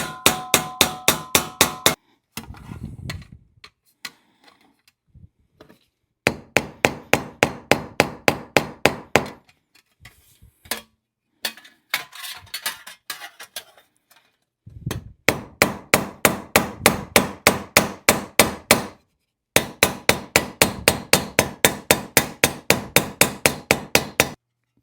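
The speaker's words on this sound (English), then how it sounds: "I'm going to go ahead and peen that head on over, make a nice tight fit on there" Hammer peening over a pin head on a homemade griddle, several long runs of rapid, evenly spaced sharp metallic strikes, close and loud, broken by short pauses and quieter handling noises.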